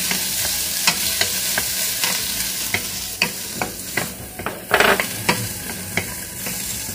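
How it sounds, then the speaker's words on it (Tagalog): Onions sauté in a little oil while being stirred, giving a close, steady sizzle broken by frequent scraping clicks of the utensil, with no talking. "Ikut-ikutin lang natin siya hanggang siya ay medyo maluto ng kunti at huwag natin pa burn out ang ating onion."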